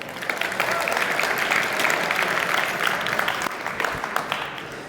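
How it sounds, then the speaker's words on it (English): A crowd at a Saudi cultural event in Utah claps steadily for volunteers called up on stage, dense sustained applause that holds at an even level for the whole stretch. "Let's give them a round of applause."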